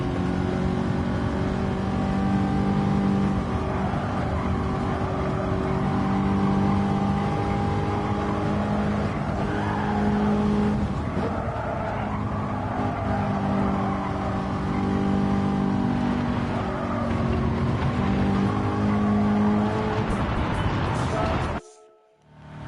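A race car engine in Gran Turismo 7 hums steadily with layered harmonic tones and shifting revs through corners, moderately loud and continuous before cutting off abruptly at the end.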